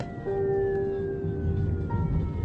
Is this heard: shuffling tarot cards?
no